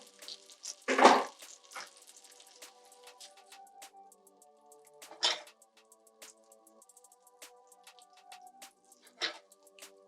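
Pierogi fry in butter in a pan with a soft, faint crackle and tiny pops, broken by three louder scraping stirs spaced a few seconds apart.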